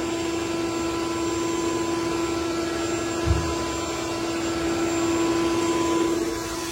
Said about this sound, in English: Angelo, look at the vacuum cleaner outside real quick and just show them.